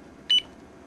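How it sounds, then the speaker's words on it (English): A cheap cube alarm clock gives a short double beep, two quick high electronic chirps, rising briefly over a quiet background. "It beeps rather audibly at you."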